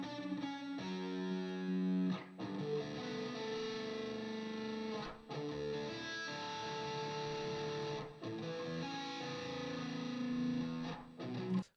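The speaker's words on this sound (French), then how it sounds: "un arpège en distorsion" An electric guitar plays a distorted arpeggio, with sustained saturated notes in phrases broken by short gaps, loud and close.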